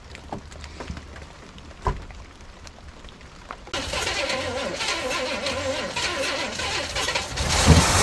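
A rotted 1980s gold Trans Am that sat in the woods cranks and fires partway through, then runs with a steady, rough, loud engine roar that builds toward the end, after faint clicks and handling noises.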